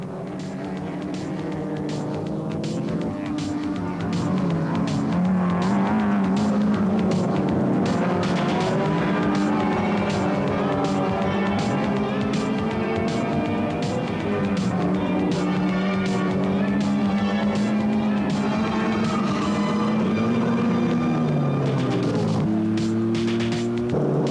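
Production saloon cars race at the 1986 Phoenix Park meeting, their engines making a loud, continuous roar with rising and falling engine notes as they pass and shift gears close by.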